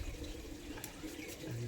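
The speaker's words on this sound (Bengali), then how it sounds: "এবার আমরা ধুয়ে নেবো সব। হ্যাঁ, সব আমরা ধুয়ে নেবো।" Tap water runs steadily into a sink while things are rinsed under it, a continuous wash of splashing that stays fairly even and close.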